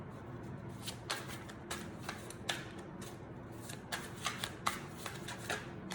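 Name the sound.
side shuffling a tarot card deck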